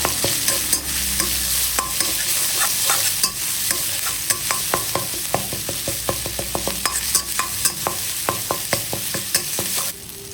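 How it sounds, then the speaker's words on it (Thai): Curry paste and shrimp paste stir-fried in oil in a pan for a canned-fish chili paste, giving a steady close sizzle broken by frequent sharp scrapes and clacks of a utensil against the pan. "เสร็จแล้วก็ผัดทุกอย่างให้เข้ากันค่ะ"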